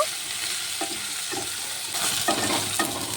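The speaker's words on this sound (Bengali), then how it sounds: "এখন কালো জিরের সাথে কচুরলতিটি একটু ভেজে নেব।" Taro stolons (kochur lati) frying with nigella seeds and chilli in a pan, a steady sizzle broken by a few scraping stirs of a spatula, close and with no voices.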